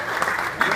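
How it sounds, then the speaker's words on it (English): A crowd at a boxing reunion in Las Vegas applauds a boxing coach, a short, loud burst of clapping that swells slightly near the end. "I want to give him a round of applause."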